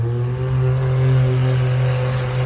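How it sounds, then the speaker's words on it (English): A side-by-side off-road racing vehicle at the Loveday 400 pulls away, its engine giving a loud, steady droning tone that holds close and strong without a break. "It sounds like Tom Stevens has got his side-by-side away."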